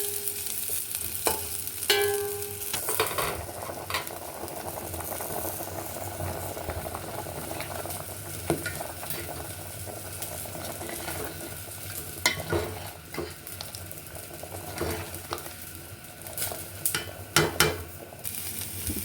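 Onions fry and sizzle in a pan for a Karnataka-style avarebele saaru, with a continuous soft crackle broken by occasional clinks and scrapes of a spoon stirring against the pan.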